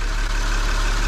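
A VW Passat R36 engine idles quietly with a steady, even low hum and faint mechanical whir, continuous and close, with no voices over it.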